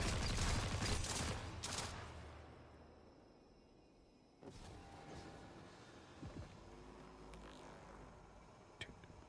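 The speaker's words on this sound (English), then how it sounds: "Homie, why are you shooting at me?" Bursts of gunfire aimed at the player in Destiny 2, a loud rattling volley at the start, then scattered fainter shots and impacts over a quieter game backdrop.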